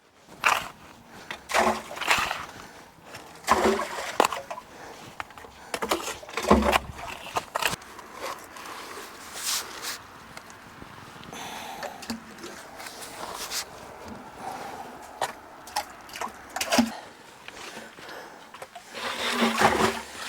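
Dirt is dumped into a water-filled hole on a homestead built without heavy equipment, giving irregular sloshing splashes and wet thuds in bursts of varying loudness, separated by quieter gaps.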